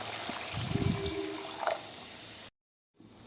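Hot water poured into a pan of semiya upma, a steady close trickle and splash with faint clinks, running about two and a half seconds before a sudden cut to silence.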